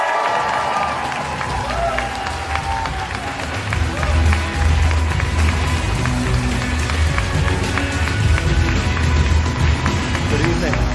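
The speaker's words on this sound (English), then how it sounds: "Please join me in giving a huge round of applause for our award presenter this evening" An awards-ceremony audience breaks into sustained, loud applause and cheering for the arriving award presenter, the clapping swelling and holding steady throughout.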